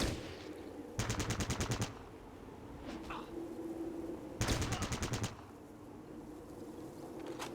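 Gunfire in a Fallout video game, two short loud bursts of rapid automatic fire about three seconds apart, with quieter ambience and a brief voice between them.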